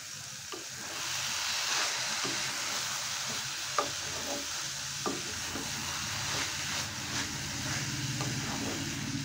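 Grated carrot halwa being stirred in a pan with ghee, a soft continuous sizzle under repeated light scraping and clinks of a spoon against the pan, fairly quiet and close, no voices.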